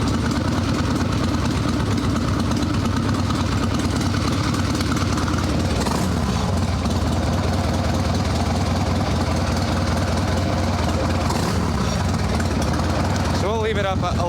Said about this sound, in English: on a brand new motor, I don't like idling them super low